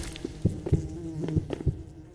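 A fly buzzing in a Roblox horror game, with several short close buzzing bursts coming in quick uneven succession.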